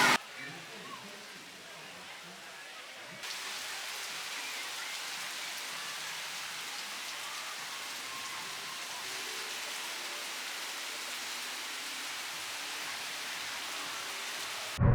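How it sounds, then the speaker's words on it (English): Steady rain pouring down at Adventure Cove Waterpark on Sentosa Island, Singapore, a continuous hiss that swells louder after a few seconds and holds evenly, with faint voices at the start. "we're gonna hang out here until the rain stops"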